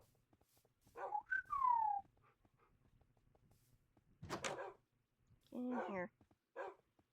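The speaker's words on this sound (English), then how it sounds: "Let me get these dogs in here." Dogs in modded Minecraft whine and bark in short separate bursts amid quiet gaps, with a brief spoken phrase between them.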